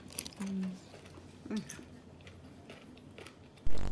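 Someone close by chews slices of crunchy sour mango dipped in homemade shrimp-paste chili sauce, giving a few wet, crisp bites and squishy chewing sounds between brief vocal noises, with a louder knock at the end.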